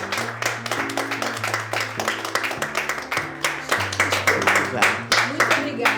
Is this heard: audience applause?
yes